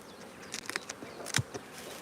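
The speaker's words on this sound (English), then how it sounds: "So she gave me the colony of bees." Honey bees from a crowded, donated colony with a super on top give off a quiet, scattered buzzing, with a few brief louder flurries close by.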